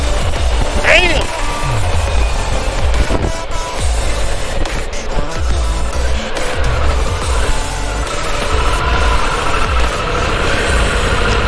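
A 2021 Harley-Davidson Pan America motorcycle rides along with a steady, loud engine drone that rises and falls through gear changes, with people talking over it.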